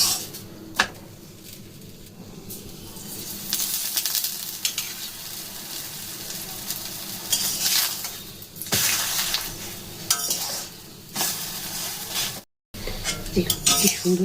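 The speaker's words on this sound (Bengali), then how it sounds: "বেলে রাখা রুটি আমি এভাবে কড়াইয়ে করব" Aloo paratha fries in a kadai with a steady, close sizzle throughout, broken by occasional utensil clinks and scraping, and a brief silent gap near the end.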